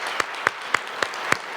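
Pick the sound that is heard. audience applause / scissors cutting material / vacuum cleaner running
audience applause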